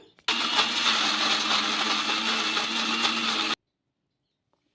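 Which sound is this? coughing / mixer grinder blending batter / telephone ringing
mixer grinder blending batter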